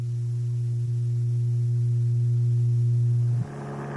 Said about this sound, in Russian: Звук такой же или близкой частоты слышится от шлифовального станка. Этот звук имеет частоту 120 Гц